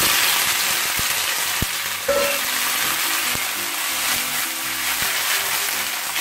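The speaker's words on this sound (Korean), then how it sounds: "열무 새싹을 팬에 볶아주도록 하겠습니다" Young radish sprouts stir-fry over high heat in a preheated pan, a loud continuous sizzle with a few sharp clicks and scrapes of the utensil.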